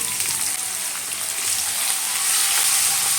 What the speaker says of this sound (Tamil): இது நல்லா ப்ரௌனாக வதங்கட்டும்